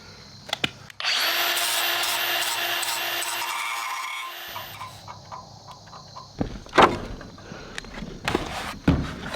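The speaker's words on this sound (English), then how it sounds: "Probably should sand that a little bit so there's no sharp edges." A power sander works over sharp metal edges on a homestead build, whirring loudly and steadily for several seconds before cutting off, followed by a few scattered knocks and clatters nearby.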